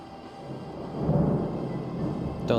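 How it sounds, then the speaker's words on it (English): Thunder rumbles outside as a low, distant, swelling roll that builds and lingers for a couple of seconds, with no talk over it. "there is lightning rumbling outside."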